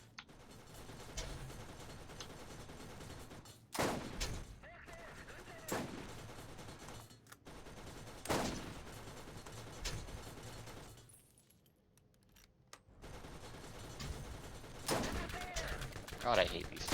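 Turrets firing in the Borderlands video game: repeated bursts of automatic gunfire with mechanical clatter, fairly quiet and spaced by short pauses, with a brief lull near the end before shooting resumes.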